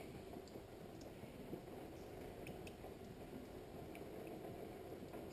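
Coolant water draining steadily from a Ford Ranger truck radiator into a bucket, a continuous soft splashing trickle with faint droplet ticks, unbroken and fairly quiet throughout.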